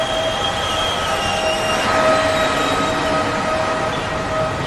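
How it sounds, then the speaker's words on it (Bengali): A passenger train runs steadily near Baruipur and Mallikpur, a continuous rolling rumble with faint wheel squeal tones drifting over it, loud and close as if heard from inside a carriage. "বারুইপুর থেকে ট্রেন ধরলাম।"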